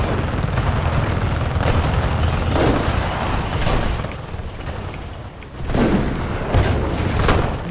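Spider-like robot exploding during a Titanfall 2 match, a loud continuous roar of booms and bursts amid dense gunfire and combat noise, with several sharp blasts standing out.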